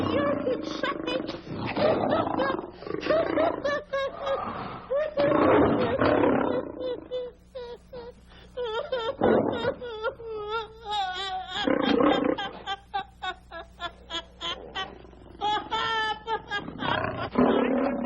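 Lion roaring in a 1949 Abbott and Costello slapstick comedy set in Africa, repeated loud, growling roars and snarls in bursts, broken by short gaps and mixed with other vocal sounds.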